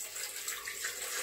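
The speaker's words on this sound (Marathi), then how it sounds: "आणि त्यात आपल्याला टाकायचं आहे पाणी" Water running steadily into the base pot of an idli steamer, a soft, continuous, fairly quiet pouring hiss with no talk.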